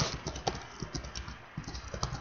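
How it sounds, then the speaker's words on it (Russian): Rapid clattering on a computer keyboard during a CRMP role-play game session, with quick irregular key taps close by over a steady background hiss. "извините за вот это клоцание по клавиатуре"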